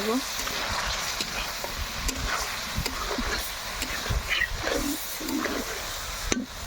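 Fish frying and being stirred in spiced oil in a pan, a steady sizzle with scraping stir strokes throughout, close and moderately loud, with no talk over it.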